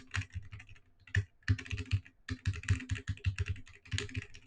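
Typing on a mechanical keyboard, a quick, uneven run of crisp clicky keystrokes close by with short pauses between bursts, fairly quiet with no talking over it.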